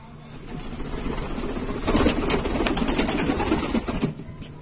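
Pigeons gathered at a water dish in a Lucknow pigeon loft, a steady wash of cooing and fluttering wings that swells in the middle, with no one talking.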